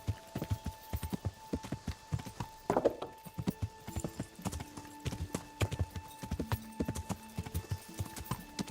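In a video game, a horse's hooves clip-clop in a quick, steady trotting rhythm, close and moderately loud, with a brief snort and faint steady game tones behind.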